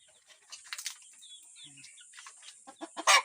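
Roosters cluck softly and intermittently nearby, with faint outdoor rustling and a louder burst near the end.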